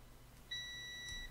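A continuity tester gives a steady electronic beep as its probe touches a screw on an amplifier heatsink, about three quarters of a second long, faint and clean over low background hiss.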